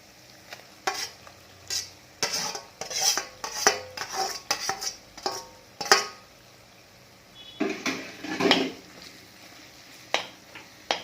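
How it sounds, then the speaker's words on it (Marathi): Crushed green chili thecha being stirred into sautéed tomatoes in a pan, with repeated scraping and clinking of a spoon against the metal over a soft sizzle, in irregular bursts and no speech. "आता आपण हा जो ठेचा आहे तो आपण त्याच्यात टाकणार आहे"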